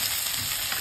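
Turmeric and curry powder frying with onion and chilies in a pan for a Jaffna fish curry, a steady close sizzle with a constant bright hiss and no voices.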